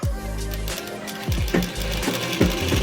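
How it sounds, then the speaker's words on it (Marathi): A sewing machine runs in steady bursts while stitching a square seam on a blouse, its motor whirring continuously with brief pauses and restarts at each corner of the square. "आता चौकोन शिलाई मारून घ्यायची."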